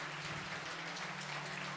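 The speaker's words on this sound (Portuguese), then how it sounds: "Dá uma salva de palmas para o Senhor Jesus." A church congregation at a celebration service claps together in a dense, steady burst of applause that carries evenly throughout.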